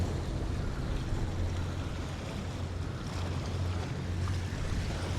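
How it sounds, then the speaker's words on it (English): A whaler boat's diesel engine at Haulover Inlet, a steady low drone under broad wind and surf noise, continuous and without talk. "Diesel engine right there."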